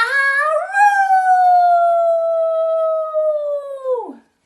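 A person imitates a coyote howl in a storybook reading, one long sustained rising-then-gliding vocal howl that holds steady and drops away at the end, loud and alone.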